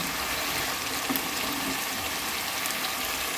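Beans tipped into a pan of simmering chicken curry give a steady, close frying hiss with wet bubbling underneath, holding even throughout with no voices.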